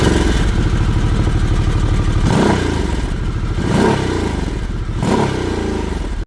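A 2026 Harley-Davidson Sportster S with a 2-1-2 single-sided exhaust, its engine running close and loud, a throbbing rumble that swells in a few revving surges.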